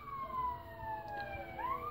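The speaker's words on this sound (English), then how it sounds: "Hear them sirens." Distant police sirens wail with rising and falling tones that overlap one another, faint above a low background rumble.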